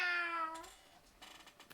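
A single cat in a video game gives a short, clear meow with a falling tone, followed by faint background noise.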